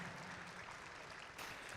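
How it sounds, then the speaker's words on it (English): Audience applause at a FIRST robotics district event in Columbus, a dense, steady burst of clapping from a large crowd lasting under two seconds. "Can you give Qualcomm a huge round of applause?"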